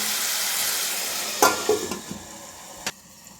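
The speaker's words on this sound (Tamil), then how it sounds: "இப்போ இதை ஓப்பன் பண்ணி தக்காளி வதங்கியிருக்கான்னு பார்க்கலாம்." Tomatoes sautéing in a pan for a fish curry give a steady sizzle that fades, broken by a few sharp clanks and scrapes of a utensil or lid, with no talk.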